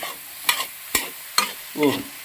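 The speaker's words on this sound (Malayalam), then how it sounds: "ഇനി നമുക്ക് നന്നായിട്ട് മിക്സ് ചെയ്ത് കൊടുക്കാം, ഇളക്കാം." Bitter gourd and dried shrimp stir-fry being stirred in a pan, a spatula scraping in quick strokes about every half second over a faint sizzle, close by with no talk.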